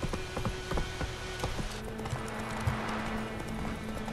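Hooves clip-clop in a steady trotting rhythm as a horse is ridden in The Witcher 3, with a faint tonal drone of game music running beneath the clear, close footfalls.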